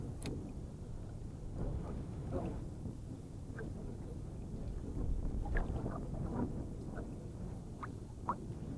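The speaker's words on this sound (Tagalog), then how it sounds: "Medyo mahangin na naman" Steady low wind buffets the microphone outdoors in shallow water, with faint water lapping and small scattered clicks over the rumble.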